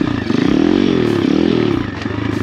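A cheap Amazon dirt bike engine revs up and down in two quick rising-and-falling buzzy swells during wheelie practice, loud and close, then settles back to a rough idle.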